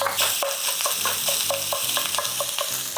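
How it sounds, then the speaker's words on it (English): Breakfast sausage meat browns in a pan for a queso dip, sizzling steadily while a utensil scrapes and stirs in a quick regular rhythm, close and fairly loud, with no talking. "The first thing we wanna do is we're gonna brown that breakfast sausage meat."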